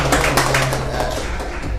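Audience clapping at a live podcast recording in a bar, a steady patter of many hands filling the short stretch from start to end without any voices.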